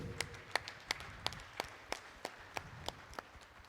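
A small audience at a seminar gives applause for an organization: sparse, clearly separated claps in an uneven rhythm, about a dozen sharp strikes, quiet and set in a roomy space.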